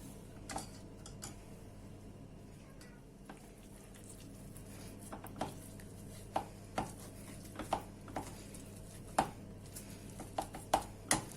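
Boiled potatoes mixed with sautéed peppers, onions and tomato paste are mashed by hand for a potato filling, giving soft, quiet, irregular taps and thuds that become more frequent toward the end.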